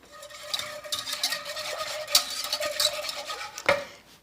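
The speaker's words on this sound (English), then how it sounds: "we want to definitely stir it consistently the whole time, otherwise you'll have lumps" A spoon stirs banana cream pie filling in a pot on the stove, a steady scraping and swishing rhythm with occasional sharper clinks against the metal, close and fairly quiet.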